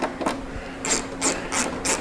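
Bolts for an aftermarket ST-style motorcycle fairing on a Harley Softail being threaded in by hand, giving short, close, raspy scraping bursts repeated in an uneven rhythm about every third of a second to half second.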